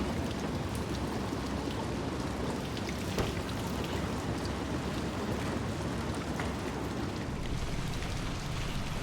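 Heavy rain in the video game Little Nightmares II, a dense steady hiss of downpour pattering on surfaces, constant and fairly loud with a faint low rumble beneath.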